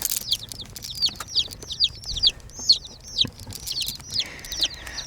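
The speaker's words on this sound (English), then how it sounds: "There's a chirping going on." Easter Egger chicks chirp inside a shipping box, a steady run of high, rising peeps repeating every half second or so, close and clear over faint background rumble.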